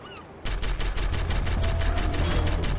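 Rapid gunfire from the survival video game How 2 Survive, a dense burst of repeated shots starting abruptly and continuing steadily, loud and close with no talk over it.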